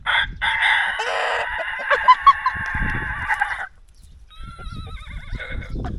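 A rooster crows loudly close by in a quiet rural village in Samcheok, South Korea, a long strained call, followed after a short pause by fainter, higher crowing or squawking from other chickens.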